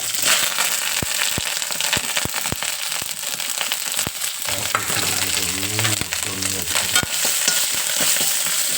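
Onions, shallots and curry leaves fry loudly in a pan, a dense crackling sizzle with sharp popping snaps throughout and a brief wavering tonal whine midway, close and prominent, with no talking.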